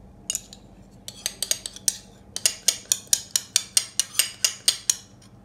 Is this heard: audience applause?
no